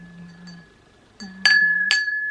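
Two expensive glasses clink together twice in quick succession, bright ringing chimes that linger with a sustained tone, after a softer earlier tap and a faint hum.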